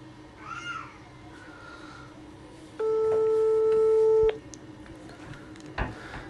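A telephone tone sounds over a phone call to a zoo: a single steady beep held for about a second and a half, loud and close, between quieter background noise and faint voices.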